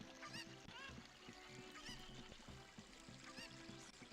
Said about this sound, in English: Yeah, I hear chicken.